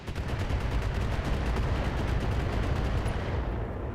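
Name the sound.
turret firing on mechs in video game BattleTech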